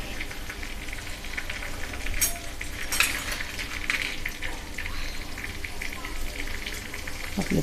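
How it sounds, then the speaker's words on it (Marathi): Sabudana and potato papad frying in hot oil in a kadhai on a gas stove, giving a steady crackling sizzle throughout with brief sharper bursts, close and moderately loud. "मी तुम्हाला आता पापड तळून दाखवते"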